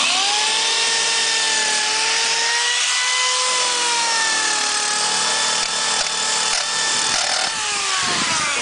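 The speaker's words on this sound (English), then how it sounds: "We're sanding the whole firewall, doing the color change." Power sanding of a car firewall down to bare metal in a Torino Squire wagon's engine bay, a loud continuous whirring grind with a steady tone that shifts slightly in pitch.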